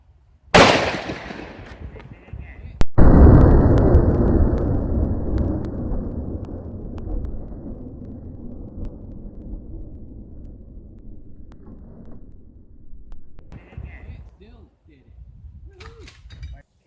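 Two loud shotgun blasts from 25-gauge Shot-mini shells fired at home defense distance, the first sharp crack followed about two seconds later by a heavier boom with a long rumbling tail that fades under quiet background sound.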